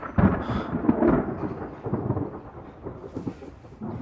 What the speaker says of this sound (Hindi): लगता है बारिश आने वाली है।